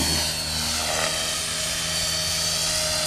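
A T-Rex RC model helicopter flies nearby with a steady, high buzzing whine from its rotor and motor, holding constant and fairly quiet with no talk.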